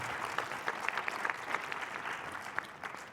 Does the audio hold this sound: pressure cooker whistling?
no